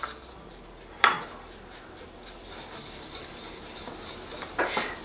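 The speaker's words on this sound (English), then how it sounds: "Now we're just going to mix all this together." A southwestern salad is tossed in a bowl. A sharp utensil clink rings out, then soft scraping and rubbing follows, and a few more clatters come near the end. The sounds are close and moderately loud, with no talking.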